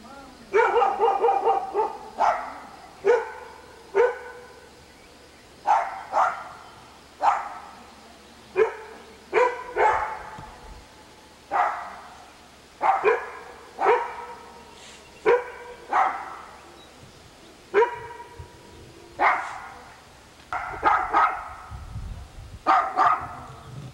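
Repeated dog barks in short clusters across the whole stretch, fairly close and loud, with gaps of quiet between bursts and faint background voices now and then.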